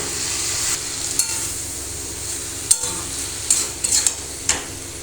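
Fried Maggi noodles tossed with vegetables in a pan give a steady close sizzle, broken by intermittent scraping stirs and a few sharp clinks of the spatula against the pan.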